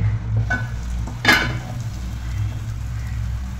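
Roasted brinjal bharit hits hot tempering oil, a soft sizzle with a sharp burst of spattering about a third of the way in, then a quieter hiss over a low steady hum.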